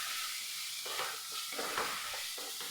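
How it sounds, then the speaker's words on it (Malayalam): A tomato and two green chillies sauté in a pan with cumin, giving a steady close sizzle. Intermittent stirring scrapes break through it without pause. "ഒരു തക്കാളി, എരിവിനാവശ്യമായിട്ടുള്ള 2 പച്ചമുളക് നല്ലപോലെ ഒന്ന് വഴറ്റിയെടുക്കാം."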